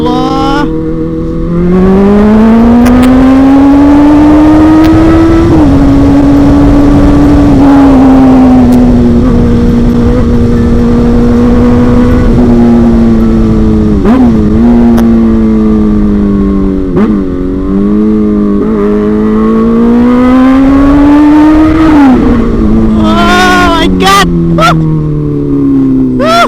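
A big new motorcycle revs and runs steadily on a night ride, its loud, close engine drone rising and falling in pitch over about half a minute, with someone talking excitedly over it.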